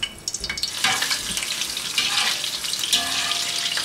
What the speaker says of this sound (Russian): Чтобы поджарить печеночку, я использую часть жирка, который вытопился из нутрии,